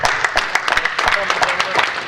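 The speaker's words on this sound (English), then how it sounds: "Give everybody a round of applause." A room of people at a land auction claps after the sale closes, with brisk, uneven clapping and some voices mixed into it at fairly close range.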